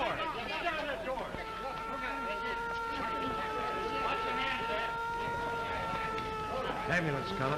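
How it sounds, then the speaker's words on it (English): A steady wailing ambulance siren holds a sustained tone through most of the stretch, mixed with background commotion and voices talking. "Ambulance coming."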